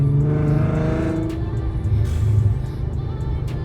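A VW Golf R32 Mk5 engine revs hard and roars steadily, loud and close, with the pitch rising and falling as the throttle is worked.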